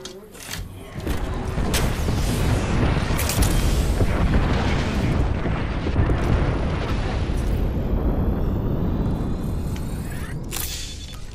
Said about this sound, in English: Call in the airstrike.